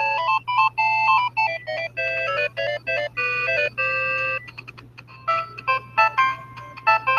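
A phone ringtone plays a bright electronic melody of rapid repeated tones in bursts with short gaps, loud and close over a steady low hum.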